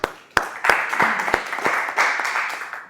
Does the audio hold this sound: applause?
yes